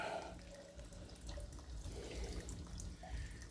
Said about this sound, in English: let me just let that fuel drain out